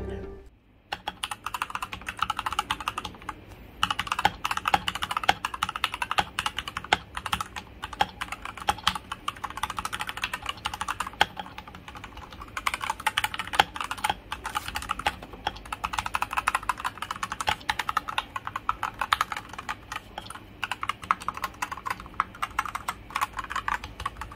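Steady, fast typing on a modded RK84 mechanical keyboard, a run of crisp clacky keystrokes with occasional louder thocks, close up and with no talking.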